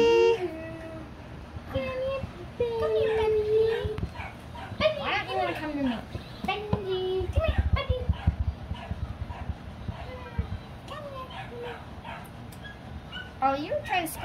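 A miniature Dachshund puppy yips, whimpers and gives small barks in quick, scattered bursts close by, with people talking around it indoors.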